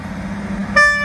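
A Class 158 train at Cramlington railway station sounds a short, loud, clear horn toot that starts abruptly after a low rumble of the approaching train.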